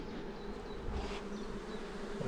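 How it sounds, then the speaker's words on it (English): Honeybees buzz around a hive after a shook swarm, a soft, steady drone with individual bees passing close by now and then, quiet and without speech. "Got a few bees hanging about the front and back."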